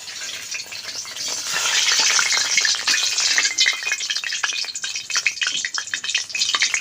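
Jackfruit fritters fry in hot oil with a loud, dense sizzle that swells after the first second and crackles steadily, with bursts of popping toward the end.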